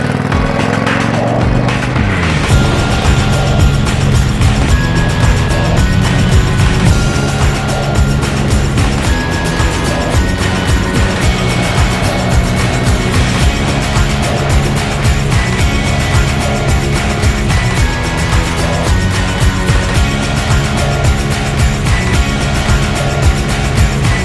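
A Harley Davidson Sportster motorcycle with a new windscreen and tail bag rides at speed, its engine a loud, constant rumbling drone mixed with heavy wind buffeting, steady for the whole stretch.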